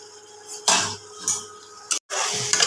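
Chicken tossed in a pan with a yogurt spice paste, heard as a few scraping, clattering strokes of a utensil against the pan with brief pauses.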